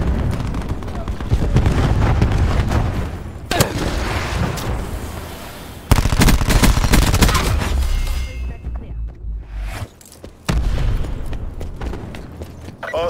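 Cluster grenade blasts and bursts of gunfire fill a Call of Duty Black Ops 4 match on Xbox One X, with loud booms and rattling shots in dense waves, a brief lull, then renewed explosions, and game voices cutting in.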